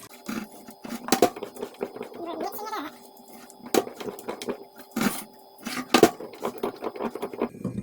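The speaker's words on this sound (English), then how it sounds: "We're going to stir this up with our wooden spoon." Wooden spoon scraping and knocking inside a pot of glossy homemade cocoa fudge, with irregular scratchy strokes and a few sharper taps, close by, with speech in between.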